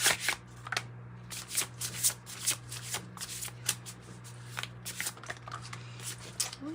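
Oracle cards from a Modern Goddess deck are shuffled by hand in a quiet room, producing a steady run of soft, rapid riffling flutters that repeat every half second or so.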